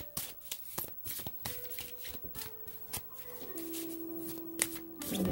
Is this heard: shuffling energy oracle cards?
yes